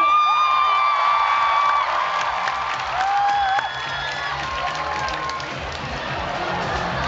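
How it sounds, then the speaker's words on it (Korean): A large audience at a Korean music competition final claps and cheers for two finalist bands, a dense sustained roar with shouts and whoops throughout, slightly quieter after the midpoint. "여러분, 두 팀에게 다시 한번 큰 박수를 부탁드리겠습니다"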